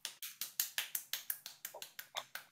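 Hands pat one's own face during a pranayama breathing exercise, making about a dozen quick, evenly spaced slaps at roughly five per second, close and with no other sound.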